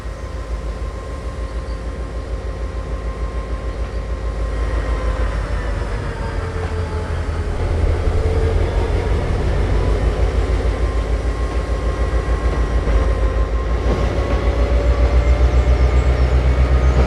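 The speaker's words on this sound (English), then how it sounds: "The locomotive is powerful." Cargo train locomotive in a Train Simulator game, a steady, continuous engine drone with rumbling low end and faint tonal whine, gradually swelling slightly louder as it accelerates, no talking.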